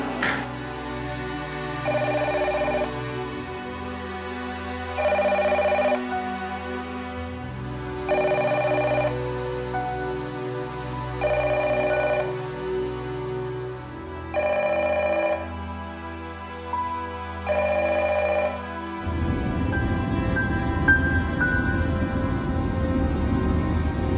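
An indoor telephone rings unanswered, six evenly spaced ring bursts over a low steady hum, followed by a wash of broadband noise once the ringing stops.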